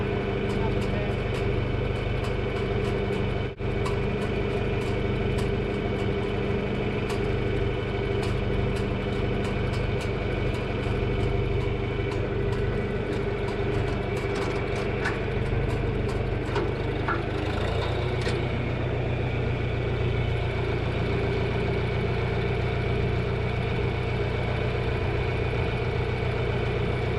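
A farm tractor engine runs steadily the whole way through, a continuous mid-low drone with a slight shift in tone partway, close by and fairly loud, with a few clanks over it.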